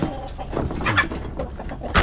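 Pet chickens clucking close by at feeding time, a busy mix of short clucks and murmurs with a louder call at the end.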